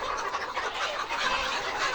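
A crowd of layer pullet chickens clucking and squawking together while being loaded for delivery, continuous and busy, fairly close, with no speech.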